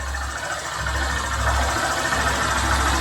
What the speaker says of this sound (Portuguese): Conclusão aí sobre o barulho do motor.